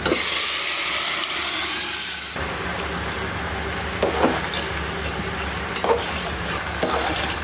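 Bottle gourd and black gram dal hitting hot oil with a loud steamy hiss that drops to a steadier sizzle, while a spoon stirs with a few scraping knocks.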